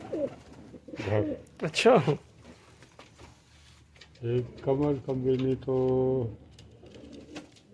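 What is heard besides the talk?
pigeon cooing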